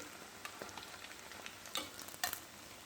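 Shami kebabs frying in a pan give a faint, quiet sizzle, broken by a few soft ticks and scrapes as they are turned, with no talking.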